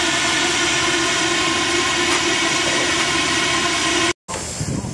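A miniature coal-fired steam traction engine runs at a show, a steady mechanical chuffing hum with broadband hiss, continuous and fairly close, cut off briefly near the end.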